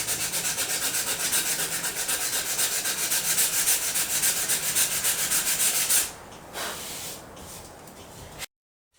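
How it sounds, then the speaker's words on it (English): Sandpaper scrubs dried glue off a wooden growth chart ruler in fast, steady back-and-forth strokes, a close rasping hiss that stops abruptly after about six seconds, leaving faint handling noise. "I'm just going to take the sandpaper and sand off the glue."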